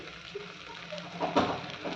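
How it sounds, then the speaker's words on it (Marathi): Rice sautés in hot oil in a pan, giving a brief close sizzle with soft stirring scrapes that swells slightly near the end, with no talking. "छान असं परतून घ्यायचं आहे हा तांदूळ, मस्त असं परतून घ्यायचं आहे."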